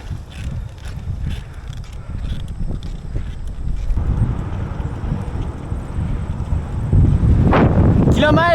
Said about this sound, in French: Comme tu peux l'entendre, c'est très venteux.